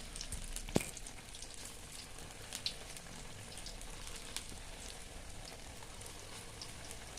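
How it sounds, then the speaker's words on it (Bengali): Spinach and coriander pakoras deep-frying in hot oil, giving a faint, steady bubbling hiss with scattered small crackles and pops throughout and no voices. "গরম তেলের মধ্যে একে একে পকোড়াগুলো ছেড়ে দিয়ে ভালোভাবে ভেজে নিতে হবে"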